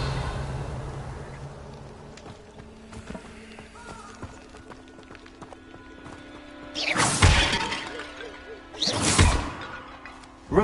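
The Revelio revealing spell in Hogwarts Legacy is cast twice, each time as a loud, sweeping magical burst rising out of quieter background game sounds.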